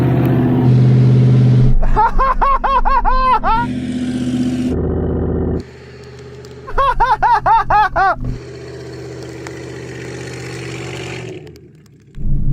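A Hummer H2 and a Suzuki Jimny race away off-road. Engines rev hard in loud rising and falling bursts, with cabin rumble between them and people talking over the noise.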